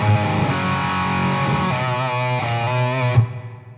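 Distorted electric guitar played dry through an EVH pedal setup with no delay, a sustained, saturated held chord that rings loud and steady before a quick change and cut-off near the end.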